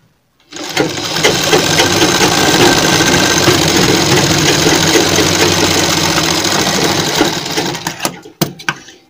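A sewing machine runs a straight seam on a cotton kurti, its steady mechanical hum continuous and close for most of the stretch before stopping, with a few brief clicks at the end.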